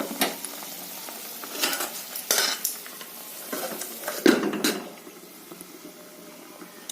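A hilsa fish head simmers in a thin curry with green banana and potatoes, giving soft bubbling and sizzling broken by several clinks of a spoon against the pot as it is stirred, with no talking.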